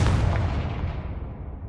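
The Confringo explosive spell going off in the Hogwarts Legacy video game, a single loud, close blast with a heavy low-end boom that fades into a rumbling tail without any voices.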